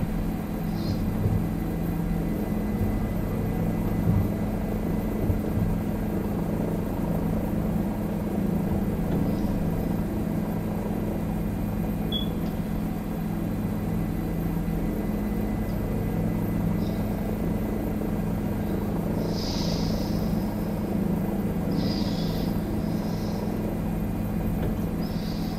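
A simulated helicopter in Microsoft Flight Simulator flying over Moscow, Idaho: a steady, droning rotor and engine hum that stays even and continuous, with a few faint high chirps on top.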